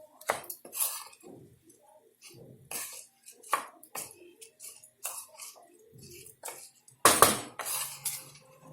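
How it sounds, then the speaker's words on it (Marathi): Sliced ivy gourd is stirred in a pan while sautéing, giving intermittent scrapes and metallic clinks of the spoon against the pan, close and moderate in level, with quiet gaps between strokes. "फिरवत राहायचं असं, नाहीतर ते खाली करपायचं"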